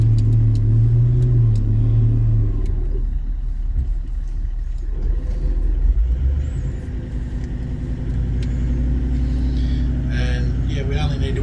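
A 4WD is winched about three feet forward toward a tree on a Wonnangatta Valley bush track, with a steady low engine rumble and strain running throughout while people talk over it.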